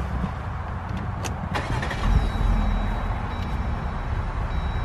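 A Jeep Wrangler Unlimited Rubicon engine cranks and catches, settling into a steady idle rumble up close, with a brief chime-like tone over it.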